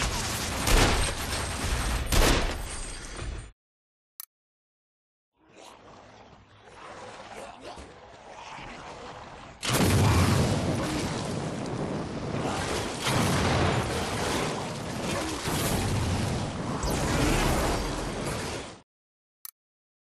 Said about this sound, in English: weapon that explodes on impact! You'll feel lucky using this hand cannon to send punk-ass enemies to the grave!